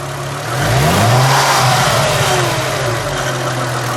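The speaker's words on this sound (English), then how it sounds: "Give a little rev." A 2005 Chrysler Crossfire SRT6 roadster's supercharged engine revs up from idle, swelling loud and close with a rising, then falling growl and supercharger whine before settling back to a steady rumble.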